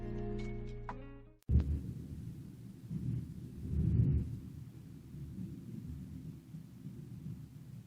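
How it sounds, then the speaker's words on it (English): Thunder rolling in a storm outside, a low, soft, distant rumble that swells and fades over several seconds after a brief tonal sound at the start. "Don't know if you can hear that thunder"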